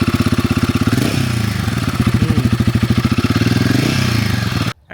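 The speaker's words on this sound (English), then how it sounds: "Now I'm gonna rev it a bit." Royal Enfield Guerrilla 450 single-cylinder motorcycle engine, loud and close, with a brassy exhaust pulsing as the throttle is blipped and eased back, then cutting off abruptly at the end.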